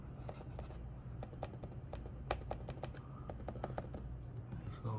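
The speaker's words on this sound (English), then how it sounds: "I'm going to get the unit a little bit closer so that you can hear the clicking." A Dell XPS laptop with an 11th-gen i7 and RTX 30-series graphics gives off rapid, light clicks from its touchpad, irregular bursts heard up close in a quiet room.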